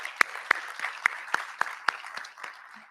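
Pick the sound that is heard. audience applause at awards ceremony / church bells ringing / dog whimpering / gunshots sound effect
audience applause at awards ceremony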